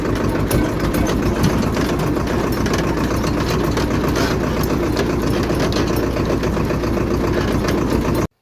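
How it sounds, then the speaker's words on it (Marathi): A tractor engine idles steadily with a low, even rumble and faint rhythmic knock, continuous and close throughout with no talking. "आपण आता ट्रॅक्टरला पेरणी यंत्र करून लगेच जाणार आहे शेतामध्ये"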